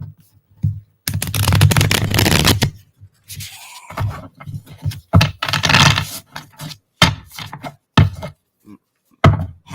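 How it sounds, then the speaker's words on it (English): Close-miked playing cards being shuffled, crisp bursts of riffling and sliding with pauses between, loud and near, with sharp flicks and taps breaking up the longer riffles. "Heavily mic'd up card shuffling"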